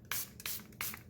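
Three quick hissing bursts of a spray bottle misting water over an acrylic paint palette, soft and close, each spurt short and separated by brief pauses.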